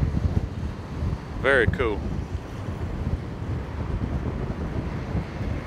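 Wind blows hard across an outdoor shoreline in Rotterdam, a steady low rumbling buffet against the microphone that persists throughout, with a brief spoken remark near the middle.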